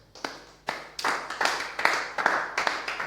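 A church congregation claps together in a steady, rhythmic beat, sharp repeated hand claps close by, filling the space at worship.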